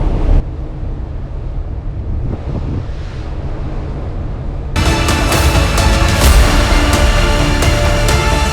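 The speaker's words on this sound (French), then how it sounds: "Il y a du vent de ouf, logiquement." Strong wind buffets the microphone in the port city of Gothenburg, a loud rumbling roar that surges and cuts harsher partway through, with no voices heard.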